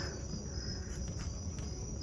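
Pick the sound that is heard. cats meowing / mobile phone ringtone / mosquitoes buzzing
mosquitoes buzzing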